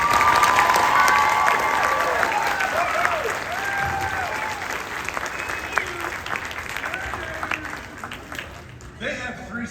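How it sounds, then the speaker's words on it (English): An audience in a school auditorium applauding a high school jazz band, sustained clapping from a crowd that fills the space and gradually thins out toward the end. "Round of applause."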